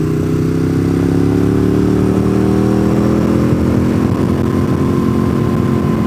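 Motorcycle ridden along a paved mountain road, engine droning loud and steady with gradual rising revs as it accelerates, wind rushing throughout.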